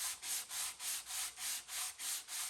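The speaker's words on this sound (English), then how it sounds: "a piece of sandpaper on a cork block" Sandpaper wrapped on a cork block rubbed back and forth over wooden tenons, about nine even rasping strokes in a steady rhythm, close and clear with no voices.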